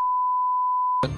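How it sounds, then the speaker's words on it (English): A steady, pure censor bleep sounds for about a second over a phone number in a political TV ad, then cuts abruptly to noisy broadcast audio. "You understand why we bleeped that, right?"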